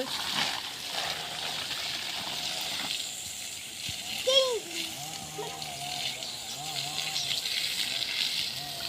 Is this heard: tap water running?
yes